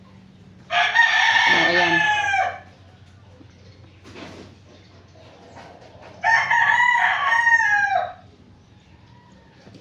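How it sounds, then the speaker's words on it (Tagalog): Two loud rooster crows ring out, a few seconds apart and nearby, with a faint rustle between them and a brief spoken word, from backyard chickens. "may alaga mga manok, kaya pasensya na po talaga sa mga ingay"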